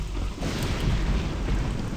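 Heavy thunderstorm in the video game Morrowind: loud, dense rolling thunder over steady pounding rain that fills the whole stretch without a break, with no voices.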